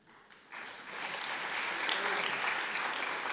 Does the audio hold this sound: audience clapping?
yes